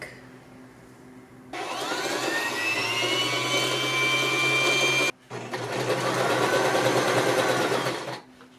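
A home sewing machine stitches a costume alteration close up in a loud, steady mechanical whir, starting after a quiet moment, pausing briefly midway, then running again before stopping.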